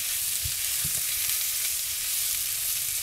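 Smoked sausage browns in a pan with a steady, close sizzle throughout, punctuated by a few soft low knocks of stirring near the start.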